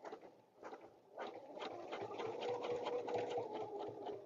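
A sewing machine stitches a quilted table runner, its needle whirring in a steady rapid patter, starting and stopping briefly before running continuously, close and fairly soft.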